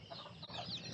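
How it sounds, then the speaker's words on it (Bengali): A native hen brooding eggs gives low murmuring clucks, faint and close, in a short continuous run with no talking. "এই যে এখানে মুরগি তাও দিচ্ছে"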